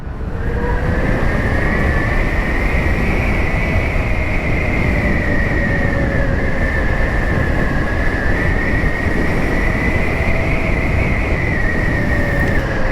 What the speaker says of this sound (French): Au bruit derrière, j'aurais dit que c'était une KTM 125, KTM Duke 125.